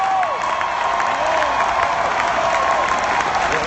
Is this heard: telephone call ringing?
no